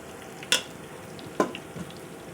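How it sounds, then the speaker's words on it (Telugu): Meal maker pakoda frying in hot oil, a soft steady sizzle with two sharp brief pops or clinks and a few small crackles, close and fairly quiet. "గంటతో కానీ దేంతో కలపకుండా ఒక 2 minutes బాగా ఫ్రై అవనిద్దాం"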